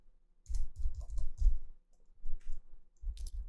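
Bursts of quick, close keystrokes on a computer keyboard come in short clusters with pauses between, crisp clicking typing with no voice over it.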